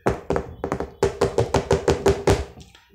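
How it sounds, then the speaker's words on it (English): About a dozen sharp knocks on a wooden table, close and loud, in a quick uneven rhythm with a brief pause before a steadier run. "I'm just knocking the table."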